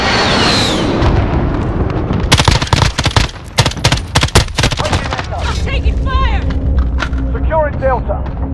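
Modern Warfare combat with a SIG Sauer MCX Virtus pistol: a dense, loud fusillade of sharp gunshots crackles in rapid bursts, then eases into scattered shots and a rumbling backdrop while radio voices and chatter come through.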